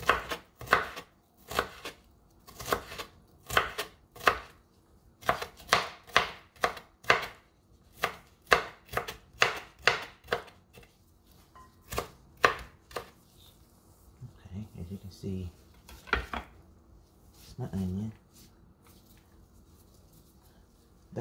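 A knife chops onion on a board for potato salad in quick, sharp, close taps that come in uneven bursts, with pauses and some soft shuffling between them.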